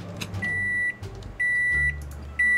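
A microwave oven sounds a series of sharp electronic beeps, three steady tones each lasting about half a second with gaps between, loud and close over a low room rumble, with no talking.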